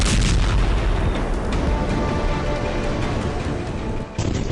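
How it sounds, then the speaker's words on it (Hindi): A massive blast from a strike on a military site in Syria roars loudly throughout, a continuous, distorted rumble of explosion that barely eases until a brief dip near the end. "धमाके का दूसरा वीडियो"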